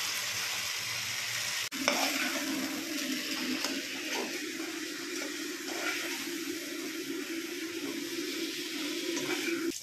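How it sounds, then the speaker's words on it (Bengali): Marinated mutton hits hot oil in a pan with a sudden sharp crackle, then settles into a continuous loud sizzle and frying hiss with light stirring throughout. "ম্যারিনেট করা মাংসটা এর মধ্যে দিয়ে দেবো"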